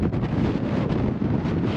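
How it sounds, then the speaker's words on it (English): Strong wind buffets the microphone in a constant, loud, rough roar with no voices, outdoors at a motorcycle film shoot. "Windy!"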